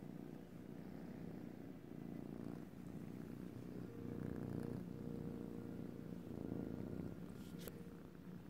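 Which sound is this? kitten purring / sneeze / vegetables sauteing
kitten purring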